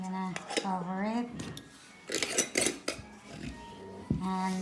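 A cooking pot gets its lid set on with a few short metallic clanks and rattles while breakfast is being made in a home kitchen; a voice sounds on and off around the clatter.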